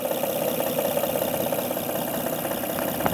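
A Honda Odyssey engine idles with a steady, rapid ticking from a faulty timing belt tensioner, a close mechanical clatter over a constant hum.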